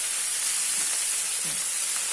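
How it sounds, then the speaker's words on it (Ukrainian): Steady, bright sizzling hiss of boiled shrimp frying in a hot pan with a little water in it, continuous and fairly loud with faint crackles, no voices. "Трошки води попало, тому так шкварчить."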